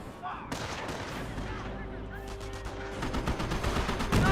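Mortar strikes and gunfire in the WWII strategy game Company of Heroes: sharp blasts and crackling volleys, loud and near, over a busy battle din.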